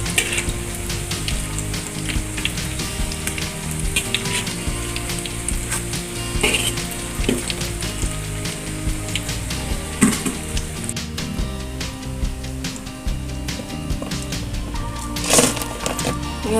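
Small mini omelettes fry in hot oil with a steady, dense sizzle and crackle, a few louder pops and spatters breaking through the continuous hiss.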